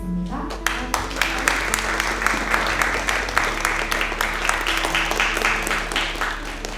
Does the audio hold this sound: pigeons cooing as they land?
no